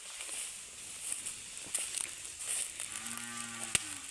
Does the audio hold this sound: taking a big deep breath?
no